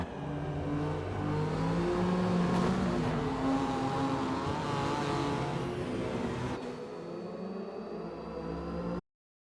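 Race cars lapping the Sebring circuit in a sim racing game during a 12-hour endurance event, engines droning and revving steadily with shifting pitch and layered whine, loud and continuous before cutting off abruptly.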